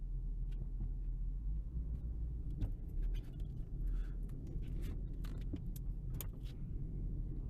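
A Ford Crown Victoria driving, its steady low engine and road rumble running continuously throughout, with faint rattles and clicks from inside the car.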